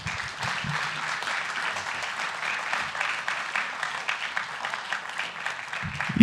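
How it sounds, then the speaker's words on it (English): An audience at a city council meeting in Santa Ana gives sustained, dense applause lasting about six seconds, evenly loud throughout, with a few voices briefly audible at the start and end. "Let's put our hands together for the Guzman family"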